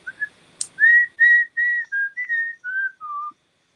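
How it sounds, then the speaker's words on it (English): Someone whistling a short tune of about ten clear notes in a steady rhythm, close and alone, stepping gradually downward in pitch. "I could sample myself whistling"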